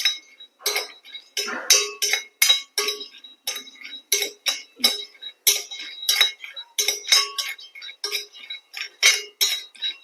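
Almonds are stirred in a hot pan, and a utensil clinks and scrapes against the metal in quick, irregular strokes. The taps are sharp and close, with brief silences between them.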